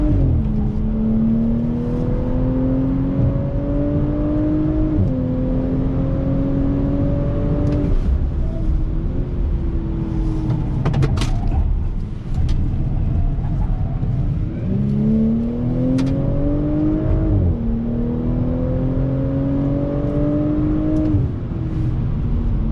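A 2020 Audi S4 sport sedan accelerating hard on throttle, its engine note climbing steadily through several gear pulls with brief dips at each shift, heard from close inside the car with no talking.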